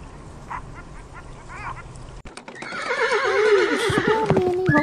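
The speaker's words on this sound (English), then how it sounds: "So many horses" Several horses neigh and whinny loudly and close by, with rising and falling calls overlapping after a quieter stretch of faint background chatter and distant calls.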